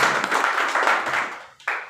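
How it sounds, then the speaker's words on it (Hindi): A seated audience claps together at a motivational business gathering, a dense steady burst of many hands that fades, pauses briefly, then swells again near the end. "एक बार जोरदार ताली बजाइए अपने लिए।"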